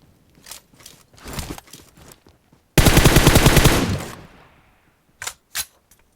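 Automatic gunfire in the PUBG Mobile shooter game: a loud, sustained burst of rapid rounds lasting over a second, preceded by scattered footsteps and shuffling and followed by two short, sharp shots.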